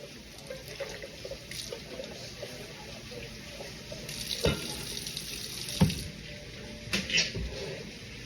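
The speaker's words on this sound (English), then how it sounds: "I'm just gonna put cold water just to like cool this pan off and cool the eggs off a little bit." Cold water runs steadily from a kitchen tap into a pan of boiled eggs, making a continuous close splashing hiss with a few louder clunks and splashes and no talking.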